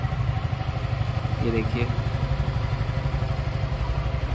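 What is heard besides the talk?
model motorcycle engine running after being started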